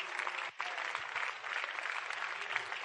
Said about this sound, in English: Y'all clapping